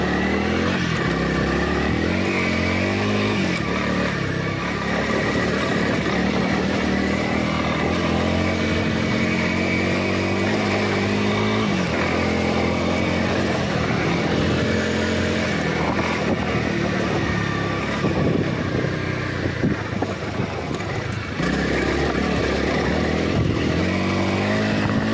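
A Honda CRF300L dual-sport motorcycle engine drones loudly and steadily throughout a ride over highway and trails, with wind roar and shifting revs and no speech.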